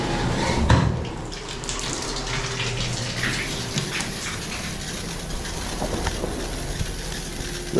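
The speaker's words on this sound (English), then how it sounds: "the shower head in here does spray the wall over on it" Water from a leaking shower head sprays steadily against a wall in a bathroom of a 20-year-old house, a continuous hissing splash with no one talking.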